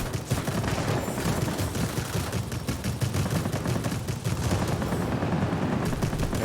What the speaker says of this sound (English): Let's see what my rear gunner can do.